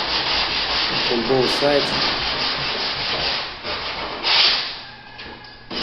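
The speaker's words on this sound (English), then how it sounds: "Take the sandpaper and set this edge because it's really sharp" Sandpaper rubbed steadily along the freshly cut edge of an interior door being undercut after laminate flooring, a continuous raspy scratching close by with brief speech partway through.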